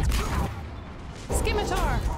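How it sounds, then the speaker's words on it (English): Gunfire and grenade blasts from combat in the video game Mass Effect 3: dense bursts of shots and booming impacts in two loud clusters separated by a brief lull, with voices mixed in. "There's grenades!"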